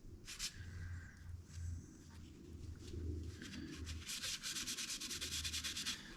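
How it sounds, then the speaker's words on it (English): A crimson cloth rag scuffs and rubs dye into a turned maple vase, making a steady close-up rasping rub in repeated strokes, alone with no talking. "Now I'm just taking the same old crimson rag that I had before and kind of scuffing over to blend."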